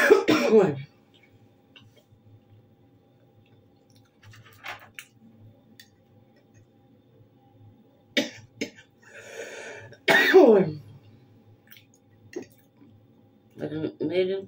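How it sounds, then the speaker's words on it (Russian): A woman has a coughing fit, with several harsh coughs and throat clearing in bursts separated by quiet pauses, close to the microphone in a quiet room. "Кашель напал."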